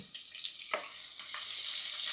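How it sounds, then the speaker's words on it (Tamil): Steady sizzle of onions frying in a pan with a brief stirring scrape partway through, close and continuous, no voices. "இதை போட்டு இதை நல்லா வதக்கிக்கலாம்"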